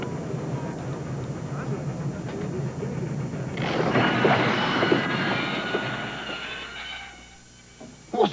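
Venice Simplon Orient Express luxury train running steadily, with a swell of rolling rail noise and carriage rumble that builds midway and then fades, ending with a sharp clatter, heard behind music or voices.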